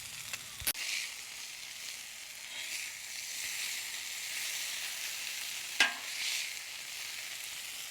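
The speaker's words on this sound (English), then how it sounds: "we got steak 2 down and it is searing along" Steak searing on a Blackstone flat-top griddle, a steady broad sizzle throughout with two brief sharp knocks near the start and middle.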